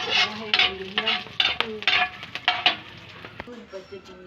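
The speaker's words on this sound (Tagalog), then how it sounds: "Okay, ilunod ang sibuyas." Onions being sautéed in a pan: a light sizzle beneath repeated scraping and clinking of a utensil against cookware, with sharp stirring knocks throughout, close and moderately loud.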